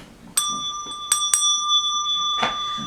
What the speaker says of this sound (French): On a trouvé la cloche.